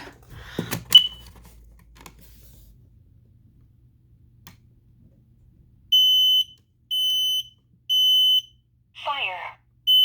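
A smoke alarm sounds during its monthly test: four loud, shrill, evenly spaced beeps, each about half a second long, after an earlier click or snap. A short synthetic voice announcement cuts in between the beeps.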